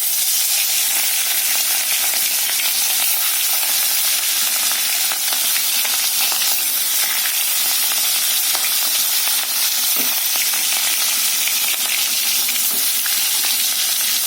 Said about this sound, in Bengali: এবারে মাছগুলো এক এক করে ভেজে নেব।